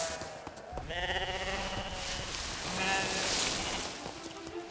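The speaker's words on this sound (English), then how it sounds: "The sheep bleat as punctually as an alarm clock." Sheep on a large farm bleat several times in close succession, loud and near, over a steady rushing background like light rain.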